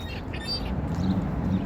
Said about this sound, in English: There's a lot of ducks here.